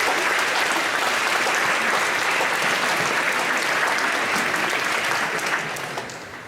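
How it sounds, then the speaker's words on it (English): Students applaud their teachers at a school awards day, a dense, steady wash of many hands clapping that stays loud throughout and only starts to thin in the final second. "students, I'd just like you to applaud the teachers"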